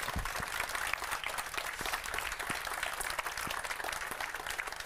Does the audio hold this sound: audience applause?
yes